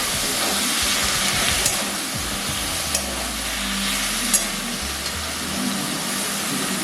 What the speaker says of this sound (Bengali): এর মধ্যে আমি মশলাটাও দিয়ে দিলাম। এই মশলার মধ্যে আদা, লঙ্কা আর রসুন পেস্ট করা আছে